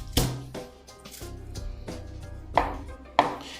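Peeled garlic cloves chopped into large pieces with a knife on a board, a handful of uneven, crisp chops close by, with quieter scraping between them.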